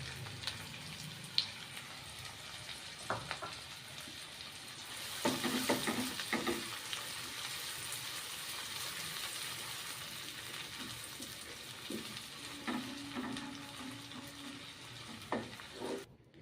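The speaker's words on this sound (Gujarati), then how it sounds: "આપણે ડુંગળીને તરીશું" Onions frying in a pan on medium flame to make birista for paneer masala biryani, a soft continuous sizzle with occasional stirring clinks and scrapes, quiet and close, no speech.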